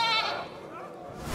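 A goat bleats in a French comedy film, a loud wavering cry up close that fades out and leaves quieter sound behind it.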